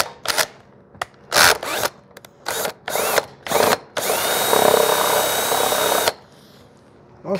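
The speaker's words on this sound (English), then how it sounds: "I think that'll be a good spot to drill right there." A power drill bores a hole in a 2021 BMW S 1000 RR motorcycle near the instrument cluster: several short close bursts, then one sustained whine of about two seconds before it stops.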